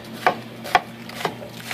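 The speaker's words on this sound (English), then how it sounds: "while I sit here and chop things" Knife chopping ingredients for gyoza on a board, four distinct sharp thuds spaced about half a second apart, close and moderately loud over a quiet room hum.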